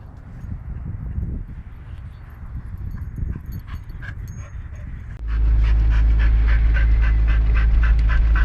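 Dog pants heavily and rapidly close to the microphone, the rhythmic breaths growing louder and more insistent partway through, with faint background rustling.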